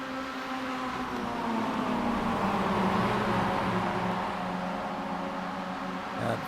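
Mazda race cars from the Advanced Mazda Series at Virginia International Raceway in the iRacing sim pass together, their engines forming a steady, dense drone that swells slightly and holds for several seconds.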